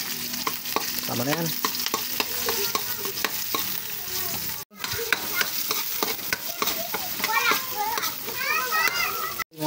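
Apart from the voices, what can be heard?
sautéing garlic, onion, ginger and chili for Bicol express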